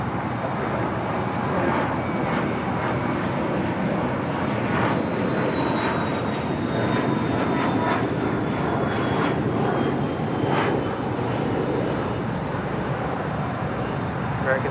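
Airliner taking off from runway 25 right at LAX, a steady loud engine roar with a faint rising whine that holds throughout, with no clear voices.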